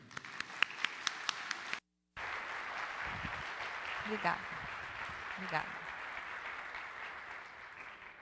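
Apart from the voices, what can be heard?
audience applause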